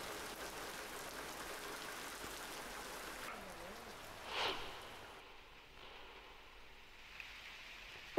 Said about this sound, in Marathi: मेघगर्जनेसह मुसळधार पाऊस बरसला